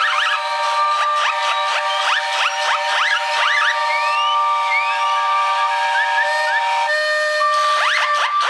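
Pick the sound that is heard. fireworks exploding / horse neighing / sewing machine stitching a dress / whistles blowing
whistles blowing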